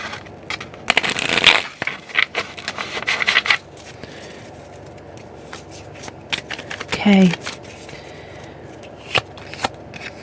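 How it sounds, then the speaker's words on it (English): Brisk riffling and flicking of a tarot card deck, a short burst of crisp paper rustle, with a voice speaking briefly and quiet rustling around it. "I'm going to give this a quick shuffle."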